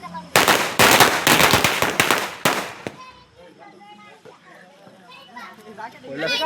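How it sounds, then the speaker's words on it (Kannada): A string of firecrackers set off during Diwali at home rattles in a loud, rapid burst of cracks for a few seconds, then gives way to children talking and playing. "ಗೈಸ್ ಸರ ಪಟಾಕಿ ಹಾಕ್ತಿದ್ವಿ ಈಗ"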